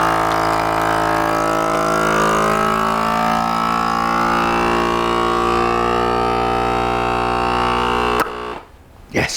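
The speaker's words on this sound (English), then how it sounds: "Now I'm gonna come over here to the vacuum sealer, and we're going to seal away, just like this." A kitchen vacuum sealer sealing a bag holds a loud, steady motor hum with a whiny tone for about eight seconds, then a sharp click as the pump cuts off and goes quiet.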